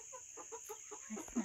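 A chicken on a rural smallholding clucks in a short run of soft, evenly spaced notes, faint and somewhat distant over a steady high background hiss.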